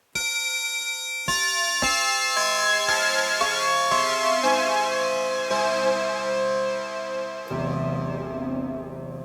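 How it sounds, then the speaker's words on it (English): A tuned chime patch from the Kiwi-3P synthesizer plays a series of bright, ringing struck notes, several rapid hits early on and then sustained overlapping tones, loud and close with no voices. "Chime."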